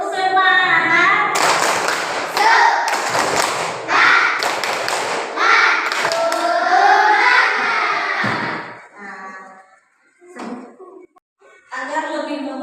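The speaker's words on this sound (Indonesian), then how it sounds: "Mari kita lakukan tepuk semangat dulu." A primary school class of children does a rhythmic spirit clap together, loud sharp claps in patterned bursts mixed with their chanting voices, then a quieter stretch of speech near the end.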